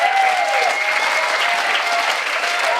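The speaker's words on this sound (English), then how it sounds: "let's give a round of applause for Colton and Justin." A wedding crowd gives the speakers a full round of applause, loud, dense clapping that fills the room without a break.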